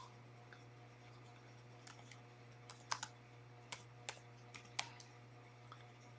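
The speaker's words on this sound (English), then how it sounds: "so we'll type in toenail" Quiet, scattered keystrokes on a computer keyboard, a few irregular clicks spread over several seconds against a steady low electrical hum, with no talking.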